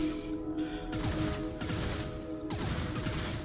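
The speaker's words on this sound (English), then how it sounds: "I'm going to take the shotgun, I think." Shotgun blasts in the video game Into The Pit, several sharp bursts spaced roughly a second apart over an electronic game soundtrack, moderately quiet.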